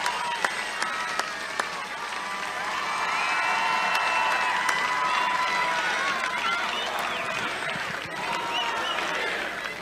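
A large crowd at an outdoor political rally cheers, whoops and applauds, a dense continuous roar that swells in the middle, punctuated by sharp claps and shouts early on.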